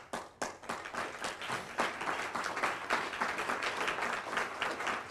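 An audience at a Long Island water conference, the sixth annual event, breaks into applause. Dense clapping starts with a few scattered claps, then swells into steady, fairly loud applause that continues for about five seconds with no talking.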